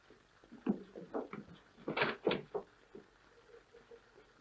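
A locked door is rattled in an old 1935 film, giving a series of uneven knocks and clattering jolts, with two louder bursts near the middle before the sound tapers off.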